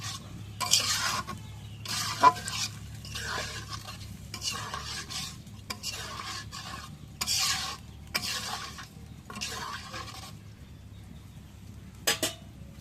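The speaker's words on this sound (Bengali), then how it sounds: "একটু কষাই নিই।" Goat meat with boiled chickpea dal is sautéed in a pan, with repeated rhythmic scraping stirs over a low sizzle, close and fairly loud, a few utensil clinks and no talking.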